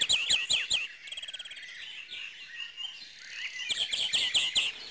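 Several birds sing in a French LPO bird refuge garden in Côtes d'Armor, bright rapid chirps and warbling trills overlapping close by, loud and continuous with no voices.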